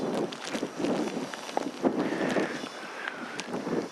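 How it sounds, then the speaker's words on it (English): Strong wind blows outdoors on the Alaska Peninsula, buffeting the microphone with a constant broadband roar and gusty bumps, accompanied by faint tapping and scattered rustles throughout. "Actually, the wind's kind of laying down on us now."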